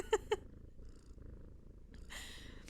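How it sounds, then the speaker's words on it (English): A cat purring sound effect plays as a soft, low, steady rumble, preceded by two short bright tones and followed by a brief breathy burst near the end. "one of them is comforting purring"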